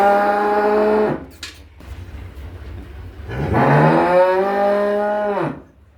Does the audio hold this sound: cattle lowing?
yes